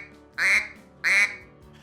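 Two flat, blunt quacks on a duck call blown with the tongue held low and little air pressure, each short and evenly spaced, loud and close with nothing else around them.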